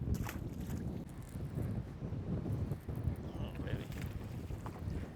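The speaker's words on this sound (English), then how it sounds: "Boy, that wind is whipping through the tops of those trees now" Wind rushes through treetops near a lake while fishing, a steady low roaring gust with buffeting on the microphone, broad and continuous throughout.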